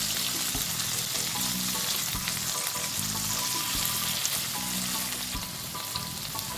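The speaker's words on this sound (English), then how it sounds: "The tofu fingers are frying on a medium heat." Tofu fingers fry over medium heat in a pan, giving a steady, close sizzle with crackling spatter and occasional soft knocks of stirring.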